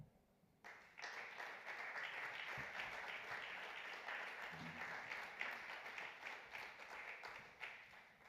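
Conference audience applauds as an award presenter comes on stage, a sudden swell of steady clapping that holds evenly for several seconds, fairly distant and soft overall, with no voices over it.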